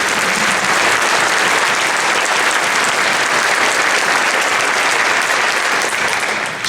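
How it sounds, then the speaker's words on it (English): Sustained applause from an audience honoring student helpers at a middle school honor band festival, dense, loud and steady throughout, with no voices over it. "Can we please give them a round of applause"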